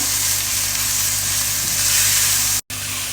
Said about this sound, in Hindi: प्याज को हम अच्छे से मिक्स करके 3 मिनट के लिए अच्छे से इसको हम भून लेंगे